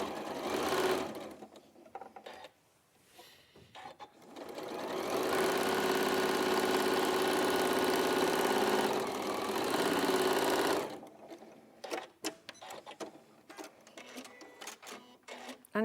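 A sewing machine stitches through four layers of fabric in one long steady run of about six seconds. Shorter bursts of stitching and clicks come before and after, close and loud, with no talk.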